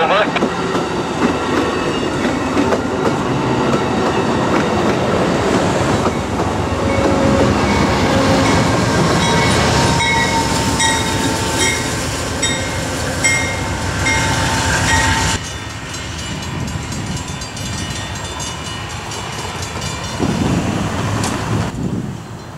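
Amtrak 99 passenger train rolls through a grade crossing in Carbondale, Illinois, a loud, sustained rumble and clickety-clack of cars passing close by, fading somewhat near the end, with a radio voice speaking over it.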